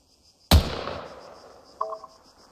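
A single sharp rifle shot in the Arma 3 military game cracks out loudly, then a long tail of echo fades away, with a faint metallic clink shortly after.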